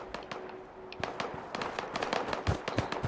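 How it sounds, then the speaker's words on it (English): Turrets fire in the video game Fallout 76: rapid, irregular cracking shots pop at moderate distance over a low background rumble, growing denser and louder toward the end. "I hear a lot of shooting."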